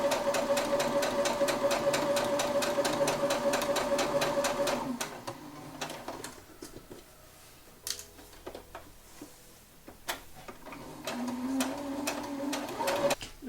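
A sewing machine stitching around a fabric face mask, heard close up with a fast, even run of needle beats for about five seconds. Then come quieter handling noises and shorter bursts of stitching, with no talking.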